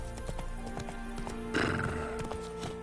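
Witcher 3 horse galloping with rhythmic hoofbeats, then a loud whinny bursts out midway over the steady game soundtrack.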